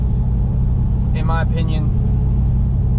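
A Silverado truck with a 5.3 engine and true dual catback straight pipes rumbles at a steady, deep idle throughout, with someone speaking briefly over the engine.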